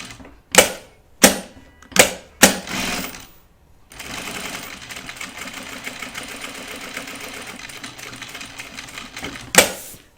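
A sewing machine stitches binding onto a vinyl project bag: four short, sharp bursts of stitching, a pause, then a long, continuous mechanical run and one final brief burst, close and loud with no talking.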